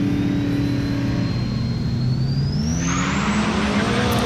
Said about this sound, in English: Hear that truck whining?